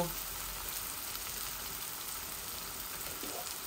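Grated ginger and garlic added to half-cooked onion, frying in a pan for a liver bhuna, giving a steady, dense hiss and sizzle throughout with no break.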